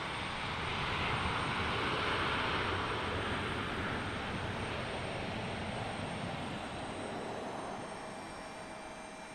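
An Embraer E175 jet at Portland International Airport gives off a steady, broad engine roar that holds loud for several seconds and then slowly fades.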